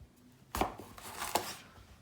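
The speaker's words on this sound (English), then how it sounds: "Cut off your stem" A knife cuts the stem off a jalapeno pepper on a cutting board, two quiet distinct chops about a second apart, near and isolated, with no voices.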